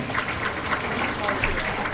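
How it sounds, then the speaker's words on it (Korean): An audience at a Korean political event in Yeouido applauding a National Assembly member, a dense, even wash of clapping from many hands that holds steady for two seconds. "여러분 힘찬 박수를 다시 한번 모아주십시오"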